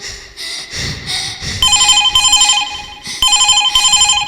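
A telephone rings in repeated electronic trills, two bursts separated by a short pause, loud and close, following some earlier muffled knocking.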